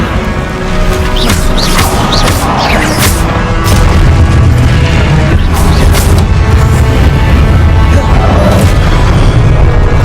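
Repeated loud Confringo fire-spell blasts in Hogwarts Legacy, a rapid series of booming impacts over constant rumbling battle noise, with no talk.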